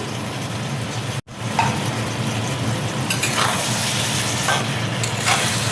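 Ghee and ground garam masala sizzle in a pan while fish-head and green jackfruit curry cooks, a steady close frying hiss with a brief dropout and soft stirring scrapes.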